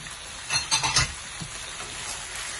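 Chicken seasoned with black pepper and salt frying in a pan for chicken pasta, a close continuous sizzle with a brief burst of stirring scrapes near the start, then steady hissing alone.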